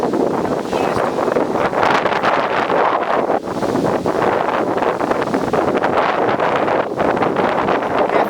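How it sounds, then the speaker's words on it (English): Strong, steady wind from a passing low storm roars and buffets the microphone continuously, loud and close, with brief gusty dips and no talking. "This wind is going to pick up much more now."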